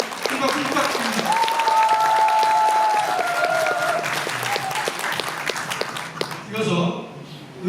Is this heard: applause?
yes